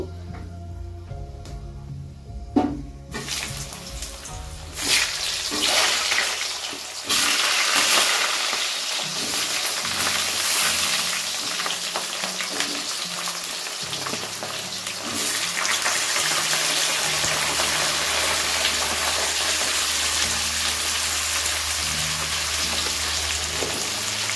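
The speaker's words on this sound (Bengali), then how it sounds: "প্রথমে সবজিগুলোকে একটু হালকা ভেজে নেব" Cabbage and mixed vegetables frying lightly in a pan with panch phoron, starting with a few clinks and stirs, then a steady hissing sizzle that grows fuller partway through. No one speaks.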